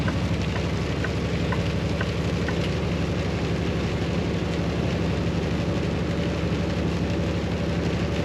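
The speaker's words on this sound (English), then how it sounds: "the rain started coming down pretty hard" Constant heavy rain drumming on a truck, with a low engine hum underneath, steady and close.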